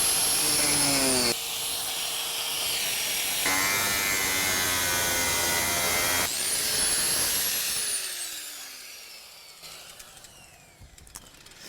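Power tool cutting away a torn bumper on a Lexus GX470 after off-road accident damage, a loud high whining buzz in several bursts with shifting pitch, ending in a falling whine that spins down and fades out, with no talking.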